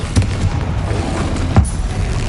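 Spell explosions from Bombarda and Confringo in a video game, two dull booming thumps about a second and a half apart over a constant loud rumbling background.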